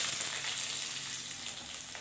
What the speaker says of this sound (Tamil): எண்ணெய் சூடாயிருச்சு கடுகு தாளிச்சுக்கலாம் கடுகு நல்லா பொரிஞ்சிருச்சுங்க